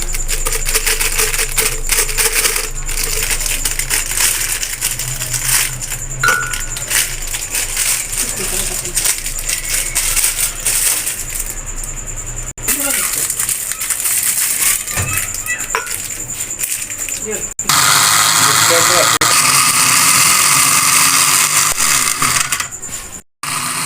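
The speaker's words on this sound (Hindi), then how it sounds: "सबसे पहले ग्राइंड करना है हमने बिस्किट को।" A mixer grinder jug pulverizes biscuits in a loud, continuous rattling whir, pausing briefly and restarting with a harsher, higher roar before cutting off at the end.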